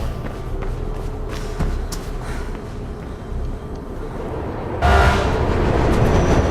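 A train approaches in the video game Mirror's Edge, a low rumbling rail roar under game ambience that swells into a louder, brighter rush near the end, with no voices.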